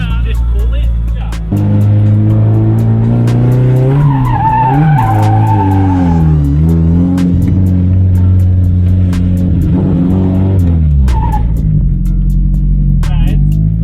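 A Ferrari skids with its e-brake pulled. The engine revs and rises and falls through the whole stretch, and tires squeal at moments, loud and close throughout.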